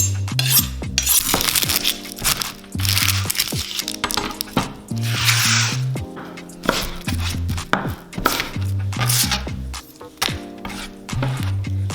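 Knife rough-chopping onion, carrots, celery and garlic on a board for beef stew, a steady run of sharp, close chopping strokes in bursts with short pauses, over background music.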